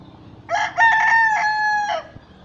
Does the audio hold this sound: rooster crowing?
yes